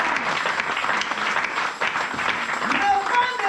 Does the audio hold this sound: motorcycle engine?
no